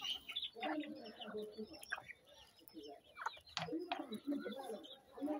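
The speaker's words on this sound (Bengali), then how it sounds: "এক পাশে আমার বড় মুরগিগুলা খাবার খাইতেছে" Hens cluck in short, irregular bursts while feeding, fairly faint and close, with a soft background hiss.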